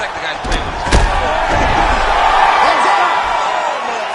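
A UFC arena crowd roars after a fight finish, a dense, loud wall of cheering with a few sharp impacts early on, sustained and steady throughout.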